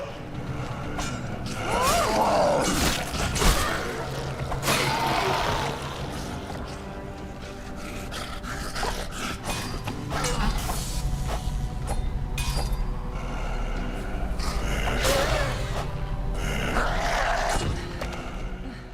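Zombie grunts, groans and roars from the Dead Island video game, rough growling bursts rising and falling over a dense, continuous backdrop of game noise, with no clear gaps.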